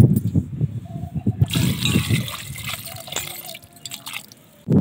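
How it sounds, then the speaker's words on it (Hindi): Tap water runs and splashes into a bowl of washed potatoes for soaking French fries, a steady pouring hiss that fades out and then surges loudly again at the end, with no talk. "पानी हम उतना डालेंगे ताकि आलू जो है डूब जाए पानी में।"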